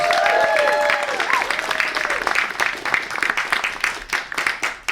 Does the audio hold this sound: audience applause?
yes